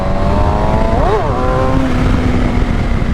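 A Suzuki GSX-R750 sport motorcycle engine revs up briefly and drops back, a loud close whine rising and falling over a steady rush of riding wind noise.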